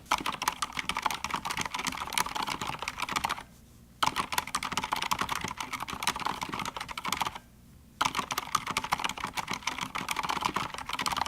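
Brisk clicky keystrokes on a Corsair K70 mechanical keyboard, close and steady, in three runs broken by brief silences.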